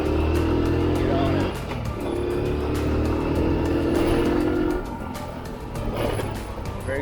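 A cheap, rattly used motorbike ridden in Vietnam revs and drones steadily, with brief drops in engine pitch as gears are shifted, heard up close over road and wind noise.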